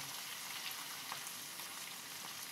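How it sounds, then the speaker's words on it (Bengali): Chopped garlic and ginger sizzle in hot oil in a pan for chili chicken, a steady, dense crackling hiss heard close and alone. "আমি এই তেলে রসুন কুচি দেব, আদা কুচি দেব"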